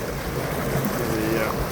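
Water rushing steadily over a spillway with a fish ladder, where wild sea trout and brook trout run, heard as a continuous broadband roar, fairly loud and unbroken throughout.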